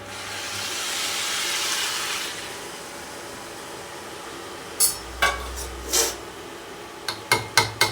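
Hot water poured into a cooking pot, a broad rushing pour for the first couple of seconds, then quiet followed by a series of short knocks and scrapes near the pot.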